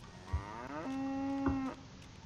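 A cow moos in the video game Goat Simulator, a single long, loud, drawn-out bellow that holds a steady pitch, preceded by a brief thump.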